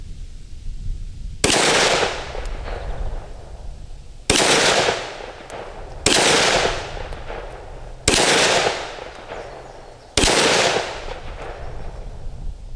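Five sharp, loud gunshots from a Glock 20 SF 10mm pistol fired at a target, spaced about two seconds apart, each with a ringing decay trailing off, no talking.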